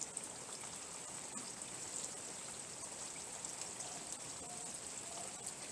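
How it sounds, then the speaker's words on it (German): Storm water leaks into a car during a hailstorm in Hungary, making a faint, steady hiss of trickling and pattering water that continues without a break. "Wasser drückt hier überall rein."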